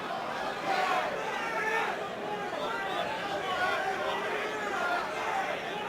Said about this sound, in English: listening to the crowd saying, Shamrock, come on